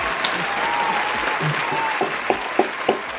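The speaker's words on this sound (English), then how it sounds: "Round of applause." A talk-show audience gives a round of applause to welcome a guest actress, a steady wash of many hands clapping that holds for a few seconds and ends in several sharp, separate claps.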